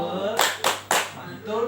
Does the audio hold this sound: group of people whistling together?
no